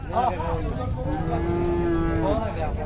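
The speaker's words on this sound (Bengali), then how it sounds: "এই গরুগুলো চলে যাচ্ছে ফেরত" Cattle at the Hazratpur livestock market give a long, drawn-out moo close by, loud over a steady background of market bustle, with brief voices at the start and end.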